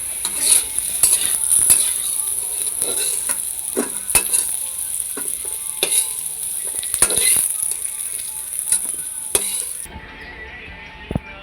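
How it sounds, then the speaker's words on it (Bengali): Steady sizzling of potatoes and pointed gourd frying in a pan until browned, with scraping and clinking of a utensil stirring throughout before the sizzle cuts off near the end. "এখন আমাদের পটল আর আলুটা লাল লাল করে পুরো ভাজা হয়ে গেছে"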